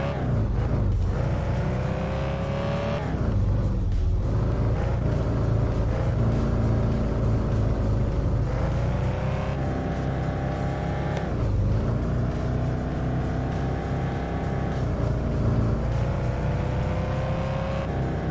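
A car engine in the VR game Thief Simulator VR hums loudly and continuously while driving, with rising and falling revs as it accelerates and shifts, a steady close rumble throughout with no talk.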